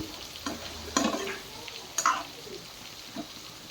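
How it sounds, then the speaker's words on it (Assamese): Quiet sizzle of pork frying in a pan, broken by a few soft scrapes of a spatula. "এতিয়া ফ্ৰাই কৰি আছোঁ ইয়াত মাংসটো"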